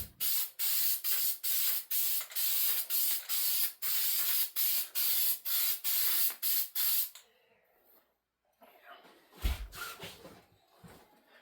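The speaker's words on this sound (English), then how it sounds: "start spraying and then just kind of lay it over" Spray adhesive is applied inside a 1991 Dodge Grand Caravan van for a new headliner, coming as about fourteen short, regular hissing bursts. Quiet rustling and a few soft knocks follow.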